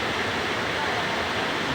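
Waterfall at Gintubdan Falls, the first falls, with clear water pouring in a steady, dense broadband rush that stays close and constant throughout, with no pauses.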